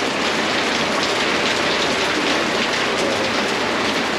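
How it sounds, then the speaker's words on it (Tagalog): Rain falling in the afternoon in Candelaria, a steady, even hiss of drops that stays constant throughout with no voices. "Inabot din tayo ng ulan."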